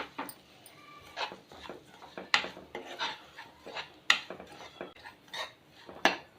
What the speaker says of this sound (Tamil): இப்போ அதுவும் சேர்த்து வறுத்துக்கலாம்